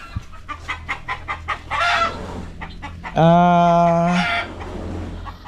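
Chickens cluck and chatter close by, with a rooster letting out a loud drawn-out crow partway through.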